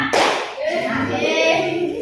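Children in an Indonesian classroom clapping game: several sharp hand claps at the start, then ongoing patting and light claps under a teacher's chanting voice.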